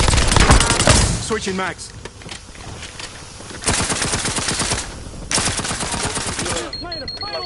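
Call of Duty Warzone gunfire: loud bursts of rapid automatic shots in several volleys with brief gaps, close and dense, with in-game voice lines speaking over parts of it.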